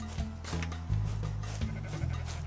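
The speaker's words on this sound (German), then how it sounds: "Da hinten sind aber schon wieder Schafe." Sheep bleat in the video game Rising World, several short wavering calls close by in quick succession over a steady game ambience.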